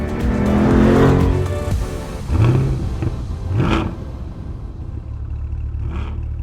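A 2021 Dodge Durango R/T with a 5.7-liter HEMI V8 and Tow N Go package drives hard, its engine surging in several loud bursts of acceleration with rising revs, then settling to a steadier rumble.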